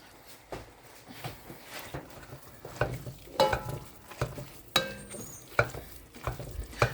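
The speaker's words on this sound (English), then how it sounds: "So I'm gonna let that start getting browned up. I'm gonna start breaking it up." Two pounds of 93% lean ground turkey sizzles over a high flame in a Dutch oven while a spatula breaks it up, with irregular scraping clicks and stirring knocks over a steady low frying hiss.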